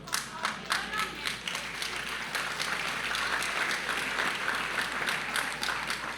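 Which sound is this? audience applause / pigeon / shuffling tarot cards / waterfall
audience applause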